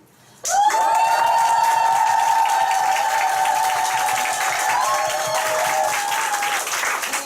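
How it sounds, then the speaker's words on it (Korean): A crowd bursts into loud, sustained applause mixed with high-pitched cheering and screams, continuing steadily for several seconds. "함성 박수 아시죠? 네. 연습 한번 할까요?"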